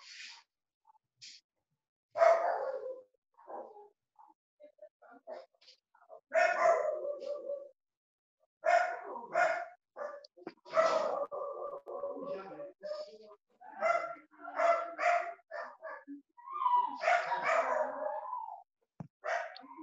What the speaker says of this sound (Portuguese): quem que tem cachorro brigando aí em casa?